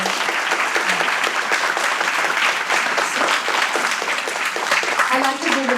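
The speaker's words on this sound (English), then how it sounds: "If you could just wave or stand up so people can applaud you for this moment." An audience applauds at a UNICEF event during the UN General Assembly after a song of hope. The dense crowd clapping is loud and sustained, with a voice faintly audible toward the end.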